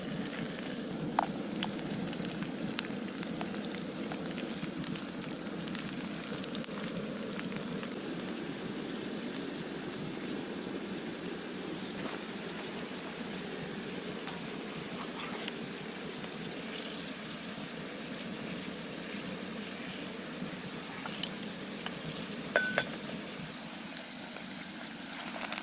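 Potatoes frying in beef tallow in a saute pan, cooked over a gas-converted fire: a quiet, continuous sizzle and crackle of hot fat holding steady throughout, with no voices.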